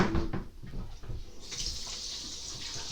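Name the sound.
water running onto a hand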